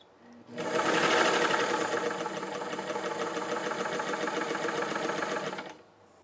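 Singer 185 sewing machine mechanism turning over after oiling, a steady mechanical whirring with rapid rhythmic clatter that starts abruptly, runs evenly for about five seconds close up, then stops.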